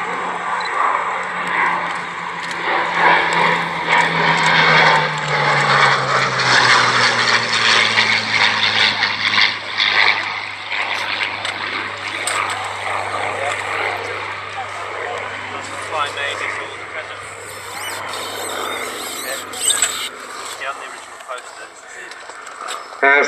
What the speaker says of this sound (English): As the Sea Hurricane comes into the overhead for a short practice display, the Bristol Mercury engine of the collection's Gloucester Gladiator starting up.